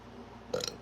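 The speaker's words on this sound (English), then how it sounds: "Excuse me, confirmation burp." A single short, close burp comes from a woman during a livestream, sharp and brief after a quiet room background.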